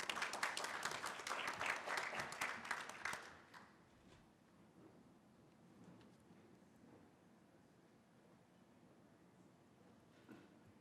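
An audience at an older driver safety summit claps to welcome a speaker, a loud burst of many hands that fades out after about three seconds into quiet room murmur.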